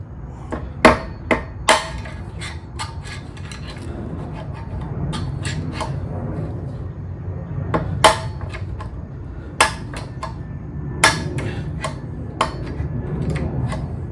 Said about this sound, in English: I'm going to get my heavier hammer